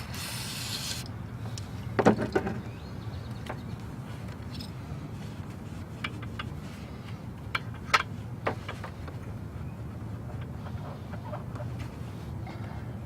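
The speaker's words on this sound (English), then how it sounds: "Make sure to wipe all these polished surfaces down." A cloth rubs and wipes across polished surfaces in soft, continuous, quiet strokes, with occasional small knocks and scrapes, close by and without talking.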